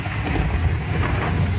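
Heavy rain pours down in a dense, constant roar, with a deep rumble of thunder underneath and no voices.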